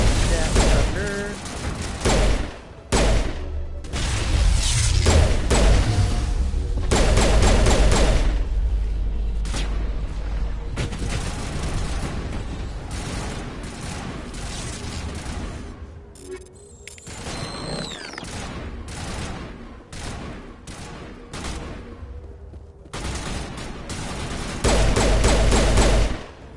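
Sustained gunfire and explosions in a Mass Effect 1 firefight, loud and dense with rapid bursts, booms and heavy blasts continuing almost without pause for the full stretch.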